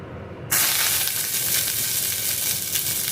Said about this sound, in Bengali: সামান্য একটু তেল দেওয়ার পর দিয়ে দেবো কারি পাতা